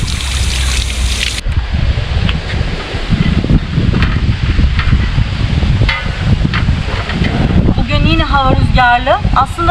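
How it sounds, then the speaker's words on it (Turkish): Strong wind by a stream in a village buffets the microphone in gusty roaring bursts, with rustling and a person talking intermittently underneath. "şu dere kısmında inanılmaz bir rüzgar var. Yani oldukça rüzgarlı."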